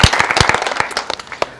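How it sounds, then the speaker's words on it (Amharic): An audience at an Ethiopian church gathering claps hands to give glory to God, loud, close and rhythmic applause with sharp individual slaps that thin out toward the end. "እስቲ እጃችሁን አጨብጭቡና ለእግዚአብሔር ክብር ስጡት።"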